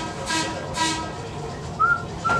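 Museum train rolling along the rails, a steady rumble with rhythmic wheel noise, metallic squeals and brief hissing bursts, heard close from on board.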